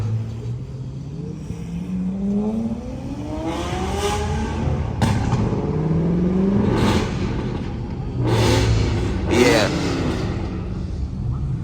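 Supercar engines rev at an outdoor car show, several sharp throttle blips and rising, falling engine notes over a continuous rumble, close and loud, with crowd noise and voices in the background.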